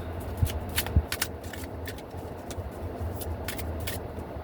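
Tarot cards are shuffled in quick riffling bursts, crisp and close, over a low steady rumble of background traffic.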